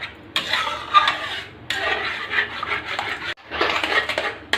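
Khandavi batter of gram flour stirred continuously in a pan over a low flame, with scraping and tapping of the spoon against the metal in irregular bursts, close up, broken by short pauses.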